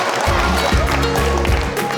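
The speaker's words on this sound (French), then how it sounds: "On peut applaudir les enfants et on peut applaudir Benoît aussi." Applause for the children at an event on food waste with Benoît Carpentier in Finistère: a loud, continuous clatter of many hands clapping close by, with a steady low rumble of hall noise beneath it.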